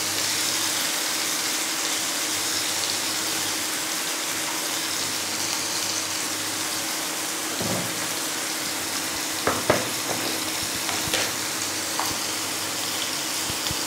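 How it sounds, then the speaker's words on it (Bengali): Moringa greens and sliced potato fry in a pan with a loud, steady broadband hiss, joined near the end by a few sharp scrapes and knocks of a spatula against the pan. "ভালো করে ভেজে নেবো একটু।"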